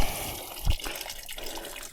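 Water trickling and gushing from a natural mountain spring beside a hiking trail in Benguet, a soft continuous flow with a brief louder splash.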